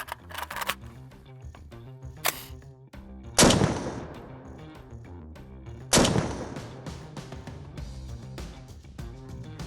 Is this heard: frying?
no